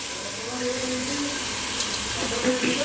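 Rice and moong dal are washed in water, giving a steady splashing, running-water wash throughout, with faint voice-like tones underneath.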